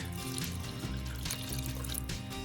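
Two cups of water are poured into a pressure cooker holding canned corn, kidney beans and Rotel, a close trickling splash over a low steady hum.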